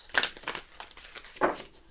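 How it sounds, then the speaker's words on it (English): Tarot and oracle cards are shuffled in irregular bursts of papery riffling and crinkling, close and fairly quiet, with two louder flurries among softer rustles. "This is a couple of different shuffles."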